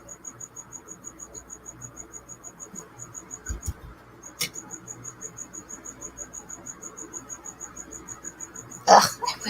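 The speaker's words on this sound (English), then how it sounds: "You guys hear that cricket?" A cricket chirps steadily in a quiet indoor room, a continuous rapid pulsing trill that runs throughout, interrupted by a couple of brief knocks and a louder rustle near the end.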